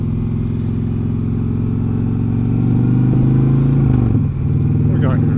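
An Indian motorcycle on stock Metzeler tires cruises along near Daytona Beach, its engine a loud, steady low drone that rises slightly and dips briefly, with a rider speaking over it.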